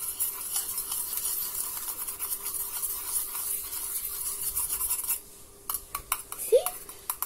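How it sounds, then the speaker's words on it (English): A spoon stirs a turmeric powder mixture in a small container, giving a steady, close scraping and rubbing that runs continuously for several seconds before easing into a few lighter scrapes and taps. "And let's take a spoon and let's mix it."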